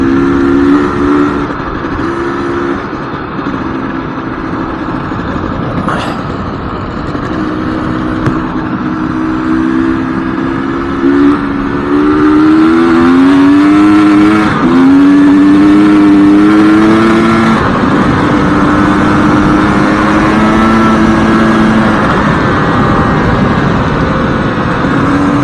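A six-speed motorcycle engine droning steadily while riding, loud and close, with the pitch rising and falling as the rider shifts and throttles, wind noise throughout.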